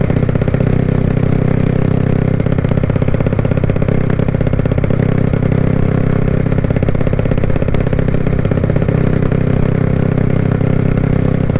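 Steady, loud engine drone of a Honda Wave 110i motorcycle with a 72 mm four-valve bore kit and 9 mm stroke, ridden on the road at sustained speed, with continuous mechanical clatter and no talking.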